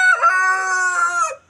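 A rooster crows once, loud and close, a single drawn-out call of about a second and a half that cuts off abruptly into silence, heard alone on a Nepali village farm in Gorkha.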